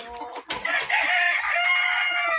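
Nearby, a market-reared rooster lets out one loud crow, opening with a few short rough notes and rising into a long, sustained call.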